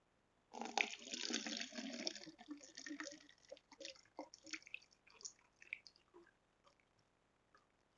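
Liquid bleach is poured into bottles, starting as a steady close gurgling stream, then breaking into irregular trickles and drips that taper off into quiet.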